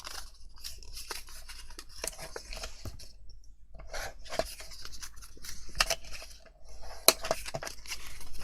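Paper is scored at a half-inch mark with a tool dragged along a guide, making close, dry scratching and rasping strokes with short pauses between passes.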